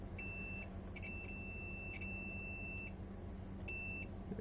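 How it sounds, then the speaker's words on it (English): Multimeter continuity tester on a Retron 5 console board giving several short high electronic beeps in irregular bursts, some held longer, over a faint steady background hum. "Continuity beeps whenever"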